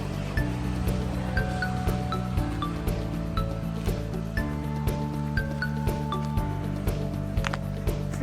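Shoreline sea waves on a littered beach, a steady broad wash of surf with rolling swells and small splashes, moderately near, with no voices present.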